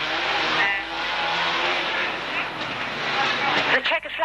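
Racing vans roar past at a Braintree Auto Club van meeting in August 1991, a dense continuous engine drone that holds steady and then briefly dips near the end, with a commentator talking over it.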